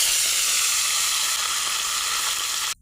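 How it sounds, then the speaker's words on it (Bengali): Fish fries in hot oil on a clay stove, giving a loud, close, steady sizzling hiss that continues unbroken before cutting off abruptly at the end. "আমি এখন মাছগুলো ভেজে নিব।"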